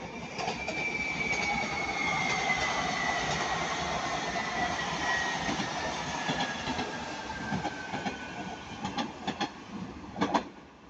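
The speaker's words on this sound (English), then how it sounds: "Here we have a Northern 331 going to Manchester Piccadilly." A Northern class 331 electric train passing at Ardwick, with a steady loud rolling roar, a long high wheel squeal across most of the pass, and clattering wheel knocks near the end.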